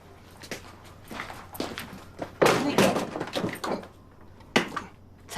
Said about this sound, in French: Tu viens-tu d'essayer de passer au travers de la porte?